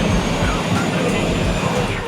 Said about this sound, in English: this Honda jet, it's not very smooth on the ground while you're taxiing